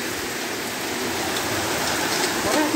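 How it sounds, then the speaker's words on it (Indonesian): Heavy rain pours down steadily at a home during a flood, a loud dense hiss of drops hitting surfaces throughout with no letup. "Suasana hari ini Kamis, hujan deras di rumah Farel."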